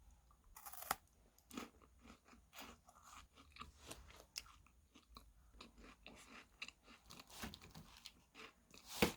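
Close, crisp crunching and chewing of chocolate-covered Croatian wafer cookies, a series of sharp bites followed by irregular mastication sounds against a quiet background.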